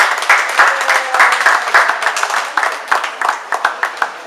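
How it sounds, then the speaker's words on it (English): A live audience at the Allegria claps and cheers to welcome a guest speaker, a dense, steady burst of applause from many hands lasting several seconds, with no talk over it. "have a round of applause for my friend Steve Vaccaro"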